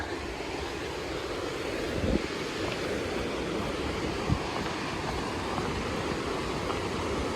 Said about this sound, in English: Got some nice waterfall action going here.